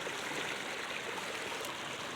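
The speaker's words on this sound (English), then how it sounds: "the water's all running on the far side" Water rushing steadily down a valley stream swollen after heavy rain, a continuous broadband wash that stays fairly faint and even with no voices over it.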